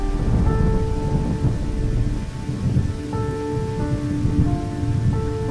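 A storm with steady heavy rain and low rumbling thunder roils continuously under sustained, eerie musical tones, dense and loud throughout with no voices.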